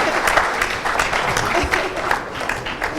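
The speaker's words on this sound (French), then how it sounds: "On peut les applaudir, s'il vous plaît." An audience at a live event applauds, with loud, dense clapping from a crowd and a few voices mixed in.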